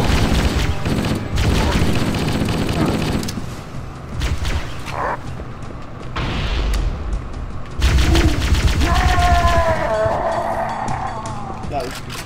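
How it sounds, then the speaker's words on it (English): Heavy gunfire in Halo: Combat Evolved crackles in loud, dense bursts and rattling volleys with deep thumps, while voices and electronic tones play through the din. "We're under heavy fire and are losing altitude!"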